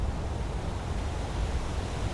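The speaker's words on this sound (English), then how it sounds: "Like this wonderful waterfall, for example." A waterfall in the video game Enderal, a Skyrim mod, gives a steady broadband rush of falling water, loud and unbroken, with no voices over it.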